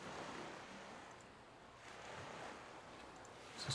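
Crashing ocean waves as background ambience for a tabletop adventure, a soft, low, washing roar that swells and recedes gently, faint and distant with a slight surge at the end, no talking.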